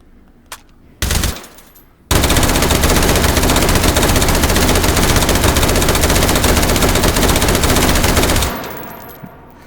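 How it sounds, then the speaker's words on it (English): Two M4A1 assault rifles fired akimbo in the VR shooter Hot Dogs, Horseshoes and Hand Grenades: a few brief bursts, then loud continuous automatic fire for about six seconds before it cuts off and rings out. "I love firing akimbo assault rifles."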